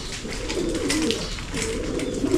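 A racing pigeon coos in soft, repeated low murmurs, steady and close, with faint background ambience.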